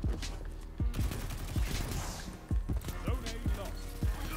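Rapid SMG bursts fire in Destiny 2 PvP, close and punchy shots repeating in quick runs over several seconds, with game sounds in the background.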